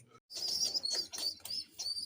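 Pigeons in a loft at a Bangladeshi pigeon farm, with soft bird calls and bursts of wing flapping and rustling close by, in several short bouts and with no talking.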